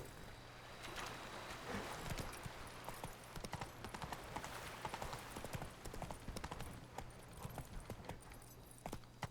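Horse hooves from The Witcher 3 beat out a quick, rhythmic clip-clop at a steady gallop, close and moderately loud, with a low ambient hum beneath and no talk.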